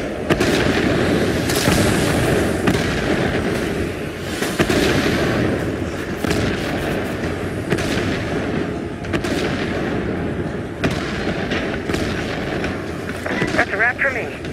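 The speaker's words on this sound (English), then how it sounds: "When you see the smoke, it means I'm waiting for the artillery." Artillery explosions and gunfire in the video game DeadHeaven: a dense, continuous barrage of booms and cracks that stays loud and close throughout, with game voices mixed underneath.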